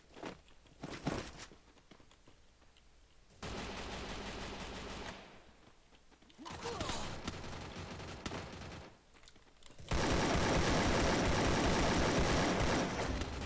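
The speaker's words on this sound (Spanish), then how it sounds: "Un disparo, un disparo." Gunfire in the Free Fire video game comes in clustered bursts and rapid automatic volleys separated by short quiet gaps. The final stretch is a loud, sustained barrage, and no one speaks.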